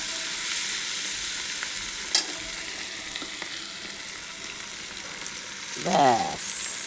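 Boiled rajma in a pan sizzles steadily while a spoon stirs it, with a sharp clack of the utensil against the pan and a brief scraping stir near the end.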